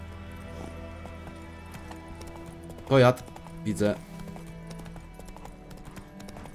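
Horse hooves clip-clop at a steady gallop in the video game The Witcher 3, a rhythmic beat running through the clip beneath a man's brief speech.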